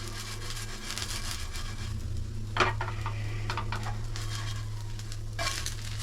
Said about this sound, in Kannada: ಫುಲ್ ಕ್ಲೀನಾಗಿ ಎಲ್ಲ ಕಡೆನೂ ಫ್ರೈ ಆಗುತ್ತೆ